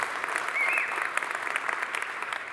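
A Prairie Lakes Church congregation applauds during a morning service, steady moderate clapping with a brief whistle, somewhat distant and softer in level.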